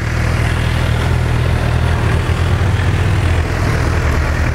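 A used Suzuki GSX-R750 motorcycle engine runs loud and close, holding a steady rumbling idle throughout with no voices.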